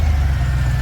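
Deep, steady rumble of a Range Rover P38 V8 engine running through a custom exhaust, heard close and loud as an even low-pitched idle with no talking.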